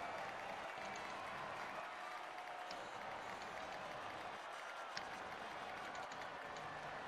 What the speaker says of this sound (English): And the reaction from the crowd.